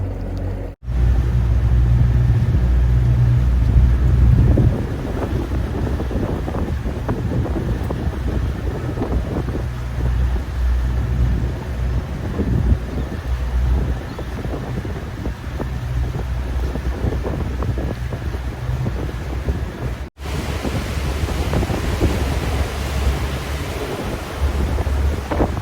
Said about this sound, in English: You can hear the wind, you can see it in the water.